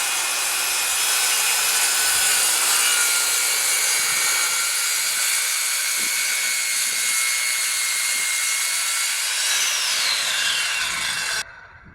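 Consumer-grade circular saw fitted with a 7 1/4 inch 24-tooth general-purpose blade rips through a long board in one continuous, loud, steady whine, winding down abruptly near the end with no talking.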